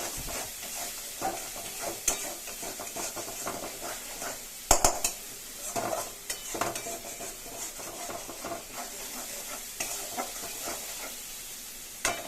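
Spice paste (masala) for a spicy tangra fish curry frying in a pan with steady sizzling, scraped and stirred by a utensil that knocks and clinks against the metal at irregular moments, close up with no talking.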